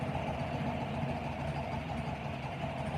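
A 1967 VW Beetle engine runs steadily at low revs, a loud, close, continuous rumble with a mid-range drone as the car creeps off in first gear, no voices over it.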